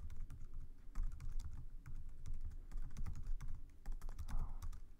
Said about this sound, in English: My typing is not the best again,